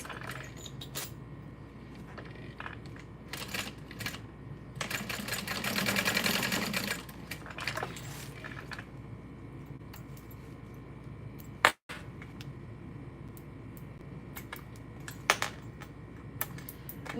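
A sewing machine stitches parallel lines across a bucket bag strap in short bursts, with close clicking and a louder stretch of rapid whirring midway, amid light handling taps and a sharp knock near the end.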